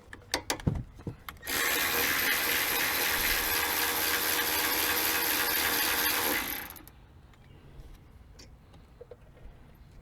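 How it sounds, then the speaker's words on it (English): A 14 mm wrench spins a brake caliper bolt loose on a Chevy Equinox's rear brakes, giving a few sharp metallic clicks followed by a loud, steady ratcheting rasp that lasts about five seconds, then stops. "Using my 14 millimeter, and go ahead and take off the caliper bolt on this side."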